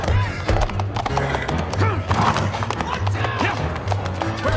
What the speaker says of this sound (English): he gets on the horse, riding through the streets